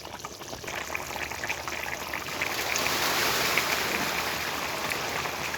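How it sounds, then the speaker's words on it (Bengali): Potato and pointed gourd curry with fresh koi fish boils in an uncovered pot, giving a steady bubbling and spattering hiss that swells slightly louder halfway through, with no talking. "কিভাবে তরকারিটা ফুটছে।"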